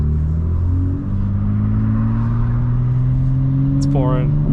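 A 900 hp 2025 BMW M4 Competition xDrive rumbles loudly and steadily close by, its engine note climbing gradually through the revs with a brief dip, while a person talks over it.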